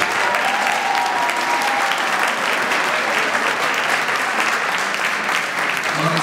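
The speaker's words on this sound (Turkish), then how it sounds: "Bu kadar alkışa çalarlar mı siz arkadaşlar?" At a classical Turkish music concert, the audience applauds in a loud, sustained wall of clapping from many hands, steady and dense throughout with faint voices mixed in.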